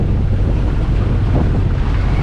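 Steady north wind buffets the microphone aboard a sailboat motoring out of a harbor, a loud continuous rumble with water noise beneath and no voices.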